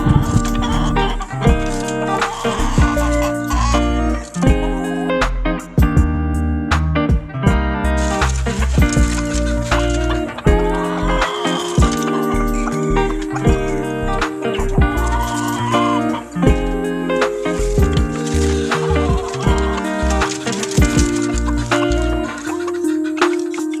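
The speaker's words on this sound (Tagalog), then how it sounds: "na dito naman po meron pa tayong mga sisiw dito na pinapalaki pa" Hens and chicks on a backyard farm cluck and cheep throughout, with busy overlapping animal calls and other barnyard noise mixed in over a loud, dense background.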